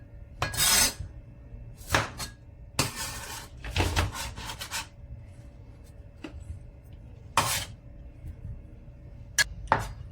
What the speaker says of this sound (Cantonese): 番茄沖洗乾淨，用刀將番茄切開